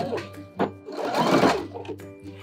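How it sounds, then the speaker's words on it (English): Sewing machine stitching the underarm and side seam of a clear vinyl raincoat in one pass, running in close bursts with short pauses, while a voice talks over it. "sew the underarm seam and the side seam of the jacket all at the same time"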